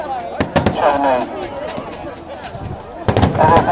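Fireworks go off at the Lewes Bonfire Night display, with several sharp bangs and crackling bursts in two clusters and someone talking in between.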